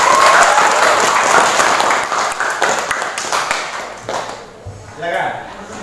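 An audience in a classroom setting breaks into applause, a loud wash of many hands clapping that tapers off over a few seconds, with voices mixed in as it dies down.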